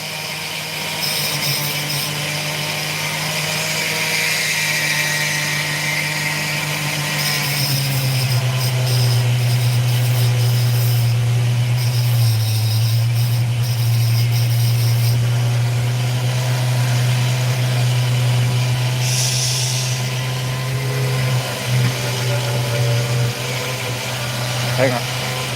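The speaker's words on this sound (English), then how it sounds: "I think it's at the shaft end of the flex tool." Flex shaft rotary tool running with a steady low motor hum and a faint high whine, its pitch shifting slightly partway through, while someone talks over it.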